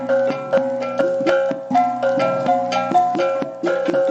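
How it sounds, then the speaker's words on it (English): A Malaysian kulintangan gong ensemble plays bright, ringing metallic gong tones in a brisk repeating pattern, struck notes overlapping with sustained resonance, loud and close with no talk. "Here is the sound of the kulintangan."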